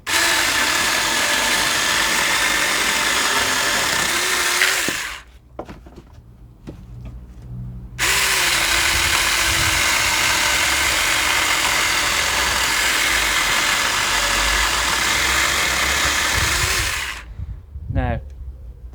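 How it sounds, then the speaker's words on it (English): A Saker 4-inch mini electric chainsaw whines steadily as it cuts wood in two long passes, dropping out briefly between them, loud and close with some juddering near the end. "If you don't hold the mini chainsaw tight against the wood,"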